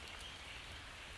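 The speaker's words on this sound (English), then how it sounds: "I hear rain, of course." Steady rain falls in a rainforest, a dense, even hiss of drops pattering on leaves and surfaces throughout, with no voices.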